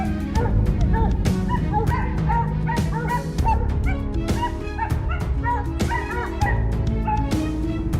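Several dogs bark at a distance in a forest during a wild boar hunt, repeated yips and woofs ringing out over dense, continuous background noise.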